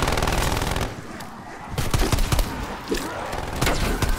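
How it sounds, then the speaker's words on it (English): Rapid automatic gunfire from a sentry turret in Call of Duty: Black Ops Cold War, dense sustained bursts with sharp reports and booming low end, loud and continuous with a brief lull. "Sentry turret online."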